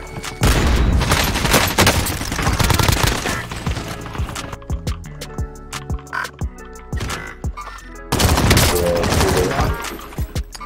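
Heavy automatic gunfire from the battle royale game Warzone roars in dense, loud bursts, then breaks into sparse single shots and impacts before another sustained volley erupts.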